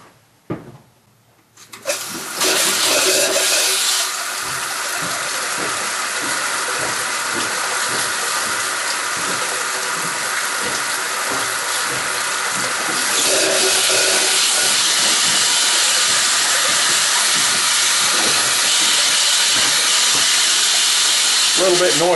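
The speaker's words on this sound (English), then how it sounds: "I'll go turn the water on." After a brief quiet start, a loud rushing hiss of water surges through the pipes of a rabbit-hutch watering system and keeps flowing steadily, growing slightly stronger near the end.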